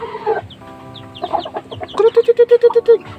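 White Aseel chickens and chicks clucking close by, with mixed calls early on, then a steady run of about nine evenly spaced, loud clucks.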